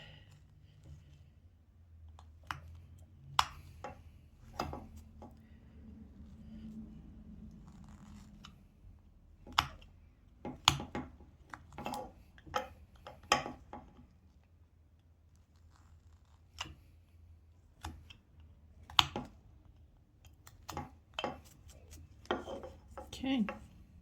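Whittling knife making stop cuts in a small wood carving, heard as a series of scattered sharp clicks and scraping cuts, some close and crisp, with quiet gaps between them and no talking.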